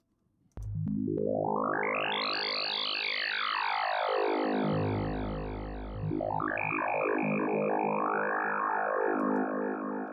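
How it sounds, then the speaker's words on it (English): A bright bandpass-filtered saw patch on the Vital synthesizer sweeps upward, falls back down, then rises again in a resonant filtered glide, sustained and alone. "So we can have a kind of additive-esque bandpass saw."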